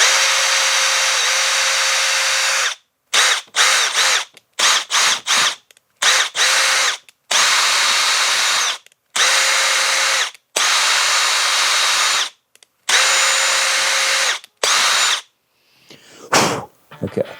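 A Milwaukee power drill drives bolts into a KTM 350 engine during a rebuild, whining loudly in repeated bursts, a long steady run followed by many short stop-start pulses, close and clear with no talk.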